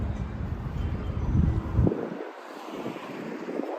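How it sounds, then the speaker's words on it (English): Steady gusty wind noise buffeting the microphone outdoors in East Vancouver, with low rumbling bursts that ease off after a couple of seconds into a softer broadband rush. "It is a windy day today."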